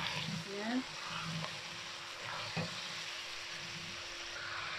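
Vegetables for a Moroccan soup sizzle steadily in a pot while being stirred, with a few soft scraping knocks and a faint voice in the background.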